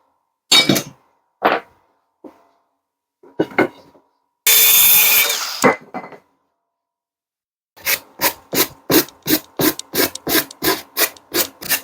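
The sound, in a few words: sawing wood boards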